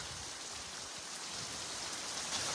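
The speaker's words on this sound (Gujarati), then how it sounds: "આજે લાઈવ વરસાદ ચાલુ છે" Steady rain pours down outdoors, a dense continuous hiss of drops with no voices, holding even and loud for the whole stretch.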